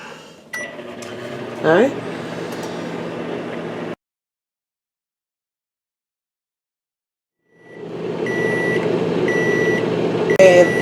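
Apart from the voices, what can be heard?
microwave oven running and beeping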